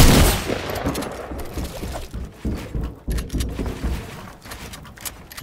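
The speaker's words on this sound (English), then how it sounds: "I know you're shooting at the kids above you." Rapid gunfire in a Fortnite creative 1v1 match, dense bursts of sharp shots and clattering impacts, loud at first then in uneven volleys, with no talk.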